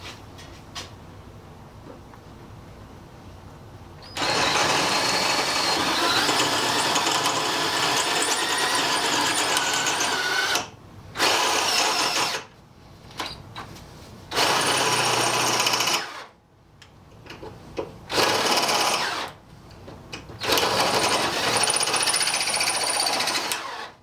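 A loud, grinding power drill with a carbide bit runs in long bursts, stopping and starting several times as it bores through hard steel, with short quiet gaps between runs.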